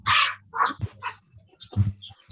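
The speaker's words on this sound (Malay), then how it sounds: "Betul-betul kuat bunyi burung." Loud crow-like birds in Melaka caw repeatedly in quick, harsh bursts, close and prominent, each call separated by brief gaps. No voices are heard.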